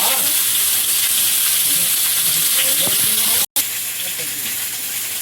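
Panch phoron spices frying in hot oil, a loud, steady sizzle and hiss with small pops close by, broken by a brief cutout before the frying resumes.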